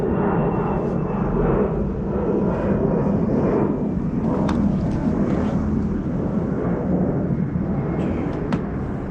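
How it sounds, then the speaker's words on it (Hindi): An Air Canada airplane departing over a snowy area, a loud, continuous engine roar that holds steady throughout, heard from outside at some distance with no talking. "और ये एयर कनाडा वाले चल पड़े अपने साउथ डेस्टिनेशन की तरफ।"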